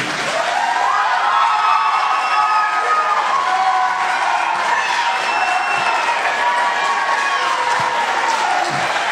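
An audience at a public gathering applauds and cheers for young campaign organizers, with sustained clapping and scattered whoops and shouts from a crowd, continuous and fairly loud for the whole stretch.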